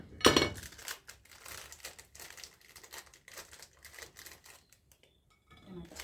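A package of salted crackers is cut open with a sharp crinkling snip at the start, followed by quiet scattered rustling and plastic crackle at close range.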